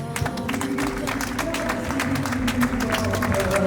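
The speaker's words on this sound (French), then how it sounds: "sous les applaudissements d'assistance" Audience applause at an official wedding ceremony in Congo-Brazzaville: a steady, dense clatter of clapping that holds for the whole stretch, with a faint murmur of voices mixed in.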